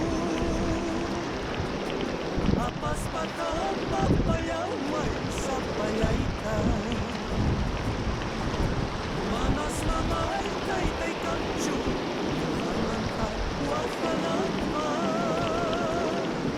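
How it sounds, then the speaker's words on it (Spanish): Loud, steady rush of a fast-flowing river near Santiago de Chocorvos, Huancavelica, Peru, fills the whole clip without a break, with a muffled voice faintly underneath at times. "La corriente está fuerte"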